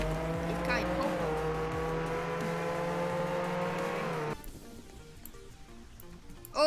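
Car engine roaring and tires squealing in Roblox Jailbreak, a police car, the sustained harmonic drone steady for about four seconds before dropping to a quieter rumble, then a sudden loud burst at the end, with voices talking over it.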